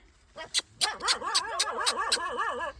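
A mother dog on a farm guards her puppy: a few sharp, close barks give way to rapid, wavering whining yelps repeated in a quick rhythm.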